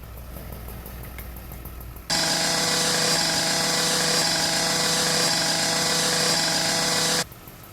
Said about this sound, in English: We'll go back into roof ops, get our chainsaw again.